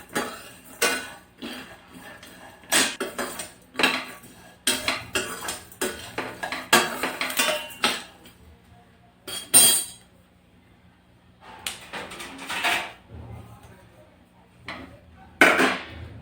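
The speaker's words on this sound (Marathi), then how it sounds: "आता आपण हे सगळं छान खमंग भाजून घेऊ." Coriander and cumin seeds are dry roasted in a pan. A spatula clinks and scrapes against the metal in irregular, close bursts separated by quiet gaps.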